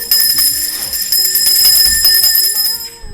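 A school bell at a lyceum's last-bell ceremony rings loudly as one continuous electric trill, then cuts off near the end, with no voices.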